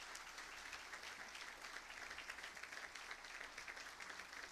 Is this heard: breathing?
no